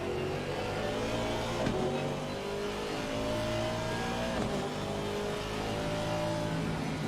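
A race car engine in the ACC sim racing game at Spa roars steadily as the car crosses the line, a continuous loud drone with shifting engine tones and a brief gear-change blip.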